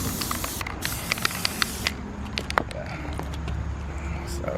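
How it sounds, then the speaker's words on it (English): Short hissing bursts of an aerosol can of spray adhesive, several quick sprays close by onto a car headliner amid a faint low background hum. "I'm gonna spray like extra in here, so it doesn't come out"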